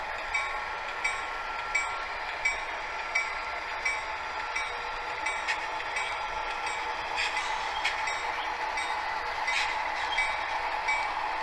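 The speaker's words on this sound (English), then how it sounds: "northbound train passing the Inver Grove Yard office and entering the yard track here at Inver Grove" A northbound train rolls past the Inver Grove yard office onto the yard track, a continuous mid-range rumble and squeal with faint regular clicks of wheels over rail joints, steady and moderately near.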